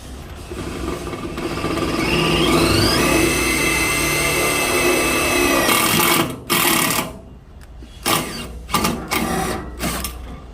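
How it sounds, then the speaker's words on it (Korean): A power drill with a small hex screw bores a hole into a metal drum being turned into a wood stove, its loud steady whine rising in pitch for about six seconds, then breaking into short bursts and stops. "자 이렇게 그냥 구멍 하나만 뚫었습니다."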